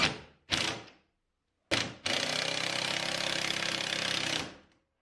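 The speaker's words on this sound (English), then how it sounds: "use my impact driver or drill to put a screw in" An impact driver or drill drives a screw into a wall to mount a triangle wall-mount boom arm. Two short bursts and a pause come first, then a loud close whir runs steadily for about two and a half seconds before stopping.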